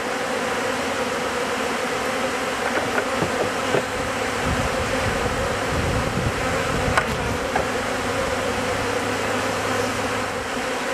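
A swarm of honey bees fills the air with a dense, continuous buzz around a hive. The hum stays steady and close throughout, with no voices.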